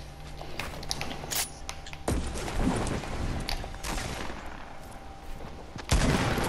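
Sniper rifle gunshots ring out in a video game as a series of sharp, loud cracks with bursts of rattling fire between them, and no one speaks.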